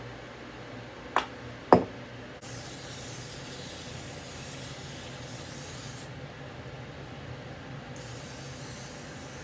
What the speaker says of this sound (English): we are going to use our donut molds and spray them with our cooking spray